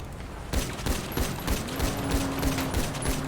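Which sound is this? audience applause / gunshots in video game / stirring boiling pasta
gunshots in video game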